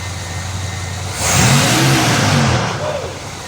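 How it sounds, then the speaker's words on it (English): A 1980 Camaro Z28 barn find engine idling, then revving up once and settling back, loud and close with a rising-and-falling pitch. "Rev it."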